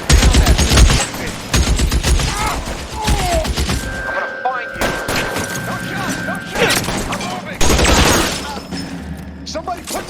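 Gunfire in the video game L.A. Noire, a loud running fusillade of overlapping shots and bursts with a whistling tone midway, while voices shout over the battle.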